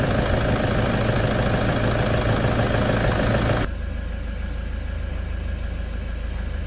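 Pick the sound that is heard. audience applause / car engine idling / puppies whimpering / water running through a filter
car engine idling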